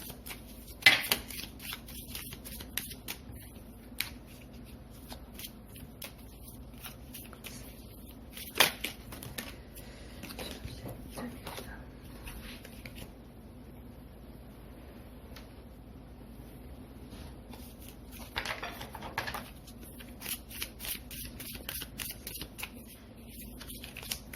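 Tarot cards are cut and shuffled on a table, with soft intermittent snaps and riffles scattered across a quiet room and a low hum behind.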